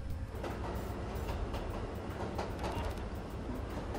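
Summoned train in Roblox Jailbreak, a steady rolling rumble with rhythmic wheel clatter on rails, loud and continuous, heard alone.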